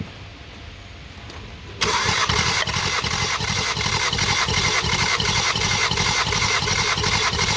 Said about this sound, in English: Full throttle and crank.